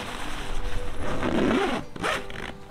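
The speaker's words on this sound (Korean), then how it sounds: "어넥스는 기본 패널과 동일하게 지퍼로 연결합니다." A zipper joins the fabric annex of a Dometic Hub Air inflatable shelter tent to its panel, a long close rasping pull followed by a second short zip, with no talk.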